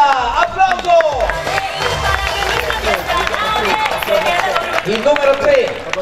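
A beach soccer crowd applauds and shouts as a player is introduced before a Brazil versus France match, with a loud, dense wash of clapping and cheering mixed with a sustained announcer-like voice throughout.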